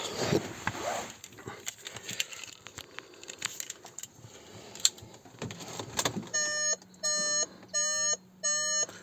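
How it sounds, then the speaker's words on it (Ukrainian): Four evenly spaced electronic chimes ring out near the end, a VW Touran's door-open warning with the engine off, following some shuffling and handling noises. "Пищить, бо двері відкриті."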